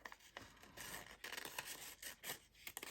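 Scissors snip through postcards in quiet, close, repeated cuts, with soft rasping blade strokes and small paper rustles in an uneven rhythm.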